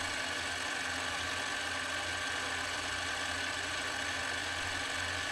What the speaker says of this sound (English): I'm turning the speed of the lathe up to about 2000 RPM.